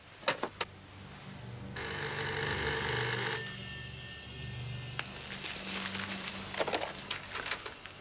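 A telephone bell rings in a bursty electronic trill for a couple of seconds indoors, over a low hum and a few clicks and footsteps before and after.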